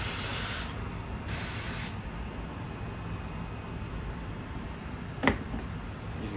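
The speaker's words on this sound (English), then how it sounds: "Using carb cleaner" Carb cleaner hisses out of an aerosol can in a few short spray bursts, close and fairly loud, over a steady background hiss, with one sharp click near the end.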